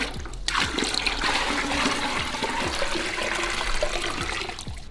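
Water pours steadily from a tap into a pail at home, a continuous rushing splash and gurgle that stays close and fairly loud for several seconds, with no talking.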